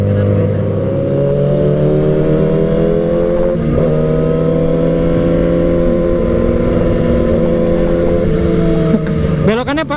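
A 600cc sport motorcycle rides fast, its engine holding a loud, steady high-revving drone close by, with a brief rise in revs near the end.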